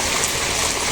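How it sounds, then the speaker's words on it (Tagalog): Water running in a steady, loud, continuous hiss close by while food is prepared, with no pauses or speech. "Water."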